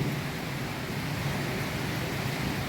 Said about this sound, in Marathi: वाऱ्या वादळ वाऱ्यासोबत पाऊस पडत आहे